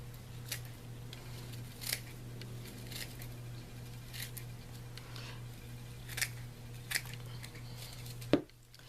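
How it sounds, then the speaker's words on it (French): Scissors cut through natural raffia fibre for an autumn decoration: a series of quiet, crisp snips, irregularly spaced, over a steady low hum in a calm room. "donc on va couper tout ça."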